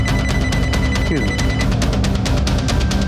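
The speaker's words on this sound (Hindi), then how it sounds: "थोड़ी देर पहले सपना का फोन आया था और फिर कट गया सर" A telephone bell rings in rapid repeated bursts through a room during a crime drama scene, loud and close, with a faint steady tone beneath.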